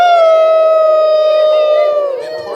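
A crowd imitates howling wolves, a loud sustained wail holding one pitch for about two seconds before breaking into ragged, fading voices and scattered calls.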